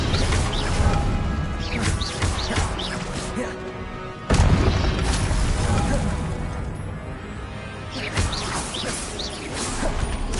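Spells fire off in Hogwarts Legacy, among them an Incendio fire blast. Repeated loud booms and crashing impacts come in waves, with a sharp burst near the middle, and a voice calls out over the action.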